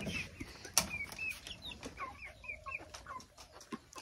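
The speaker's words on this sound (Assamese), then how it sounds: "এইখিনি মুৰ্গী চাওক" Several local laying hens on a poultry farm clucking and chirping nearby in an irregular chatter, fairly quiet, with a sharp knock partway through.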